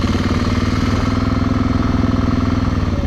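A Scram 411 motorcycle engine idles steadily up close, a low, even chugging pulse that holds throughout without revving.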